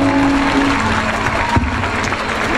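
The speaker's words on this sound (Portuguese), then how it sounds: "Pode aplaudir também a Deus pela vida do prefeito" An audience at the Viva Vida 2015 stage show claps for the mayor, a thick, continuous burst of many hands clapping nearby, loud and unbroken throughout.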